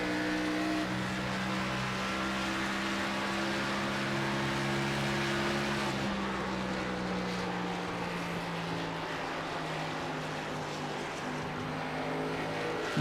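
A NASCAR Xfinity Series race car engine drones steadily at speed at Homestead-Miami Speedway, then its pitch drops midway as the driver backs off the throttle, continuing at a lower rumble.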